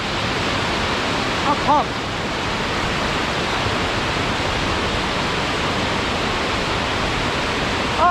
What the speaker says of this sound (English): You're going to look at this waterfall.